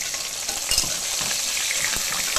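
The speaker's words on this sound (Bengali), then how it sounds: "মাথা দেখুন লাল লাল করে ভাজা হয়ে গেছে" Fish heads fry in oil in a pan until deep red, giving a continuous close hissing sizzle with faint scrapes and pops. No one talks.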